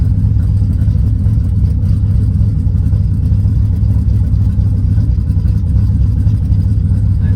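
A Chevrolet TrailBlazer SS engine rumbles loudly and steadily up close, a deep, throaty, tractor-like drone that holds without pause.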